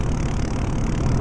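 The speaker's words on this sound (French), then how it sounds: "Le moteur, ça s'entendait que c'est plus fort. C'est un vraiment moteur Mercedes, on le sent." A Mercedes-Benz Citaro Facelift G city bus engine in Proton Bus Simulator gives a steady, close low drone with no other sounds.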